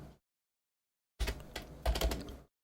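Typing on a computer keyboard while writing code, a quick flurry of close, crisp key clicks lasting about a second after a brief silence, with no voice over it.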